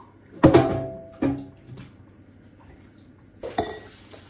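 Glass Ball canning jars knocking together in a kitchen, a few sharp clinks: a loud cluster at the start, another shortly after, then a last clink near the end, close and otherwise quiet.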